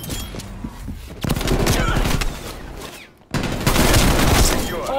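Gunfire in the video game Black Ops Cold War from an AK74u: loud, dense automatic bursts filling most of the clip, broken by a brief gap, with game effects layered over.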